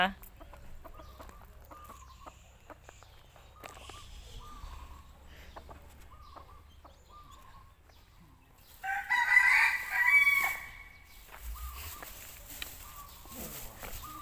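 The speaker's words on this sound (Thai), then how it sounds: "เสียงไก่ขัน" A rooster crows once, loud and fairly close, in a quiet rural setting at a temple grounds; softer clucks and faint background sounds surround the crow.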